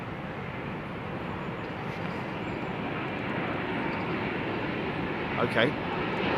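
Azerbaijan Boeing 777 arriving at Heathrow runway 09L: a broad, steady jet roar that builds slightly over several seconds, heard from a distance outdoors, with a brief short remark from a nearby voice near the end.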